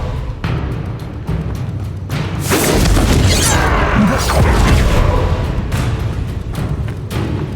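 Confringo blasting spell cast in Hogwarts Legacy during a duel, a loud booming blast that swells midway and rumbles on for several seconds amid other crashing combat sounds.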